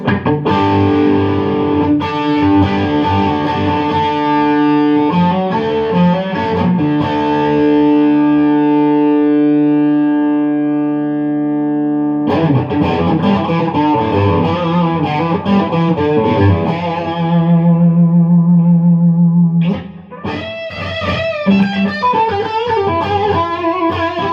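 A heavily overdriven Harley Benton Aeolus electric guitar on its bridge humbucker plays thick, sustained classic-rock chords and riffs, loud and gritty with a long ringing tail.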